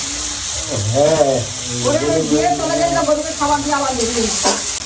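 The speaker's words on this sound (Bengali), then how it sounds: "পেঁয়াজ আর টমেটো ভাজা হয়ে গেছে" Onions and tomatoes fry in a pan over a clay stove, a loud, close sizzle with stirring running under wavering voice-like tones.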